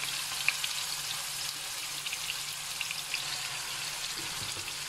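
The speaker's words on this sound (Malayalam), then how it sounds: "ഇതേപോലെ എല്ലാ ചിക്കനും നമ്മൾ മസാല പുരട്ടി വെച്ചിരിക്കുന്ന ചിക്കൻ എല്ലാം വറുത്തെടുക്കണം." Masala-coated chicken pieces frying in a pan over a medium flame, a steady, even sizzle with faint crackles and pops running throughout, no voices.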